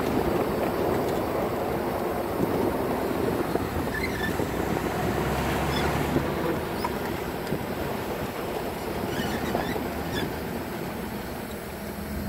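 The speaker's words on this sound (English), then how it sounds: "And let's shift into third gear." A 1961 Chevrolet Corvette drives along with a dense, continuous engine and road rumble heard from inside, the drone dipping briefly as it shifts into third gear before evening out again.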